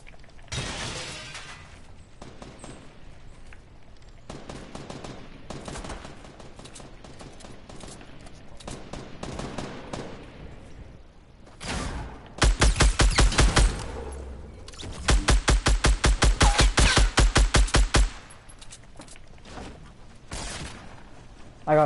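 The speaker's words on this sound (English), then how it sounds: "Bro, I'm just going where the gunshots are." Gunfire in a shooter video game: scattered distant shots early on, then two loud, rapid bursts of automatic fire close by, with quieter single shots in between.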